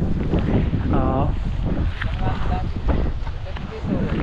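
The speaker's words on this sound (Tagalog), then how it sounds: "Halos doble yung tubig na lumalabas ngayon kaysa dati" Water from a pump hose gushing onto calamansi trees, a steady rushing hiss under voices talking, with some wind noise outdoors.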